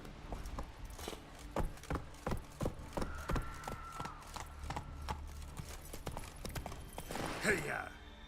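Hooves of Roach, a horse in The Witcher III video game, clatter in a quick galloping rhythm, loud and close, with a brief whinny near the end and a person talking over the hoofbeats.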